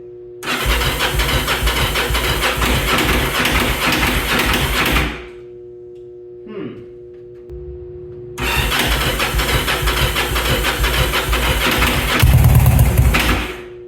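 A Yamaha V Star motorcycle engine cranks and catches in two loud bursts of running, with a short quiet gap and a brief mechanical click between them, then settles into a steady rough idle.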